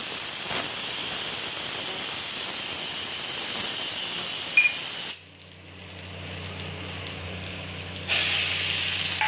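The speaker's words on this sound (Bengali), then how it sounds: "রসুনটা ভাজবো।" Onion and garlic fry in hot oil in a wok for a rajma dish, giving a loud, steady sizzling hiss that drops abruptly to a quiet simmer midway, then flares up again near the end.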